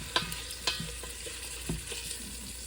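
Italian sausage and garlic sizzle in a frying pan, a close crackling fry broken by several sharp clinks and scrapes of stirring, with no voices.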